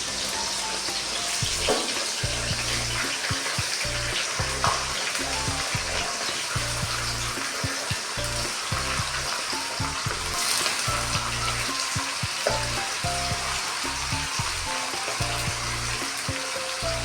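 Potato slices frying with cumin seeds and curry leaves while being stirred in a pan: a loud, steady, close sizzle with scraping stirring strokes throughout, no talking.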